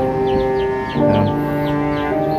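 Neighbor's chickens and chicks clucking and peeping close by in a farmyard, with repeated short chirps over a steady background tone, no talking.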